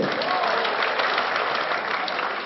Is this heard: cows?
no